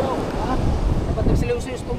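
Sea waves and gusting wind roar during Typhoon Ramil on the shore at Dinahican, Infanta, Quezon, a dense, steady wash of surf and wind buffeting the microphone, with voices talking faintly in the background.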